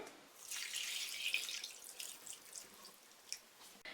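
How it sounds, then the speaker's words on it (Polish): Water runs and splashes into a pot of pork knuckle, a bright continuous stream that tapers off into scattered drips. "Zalewam to wodą."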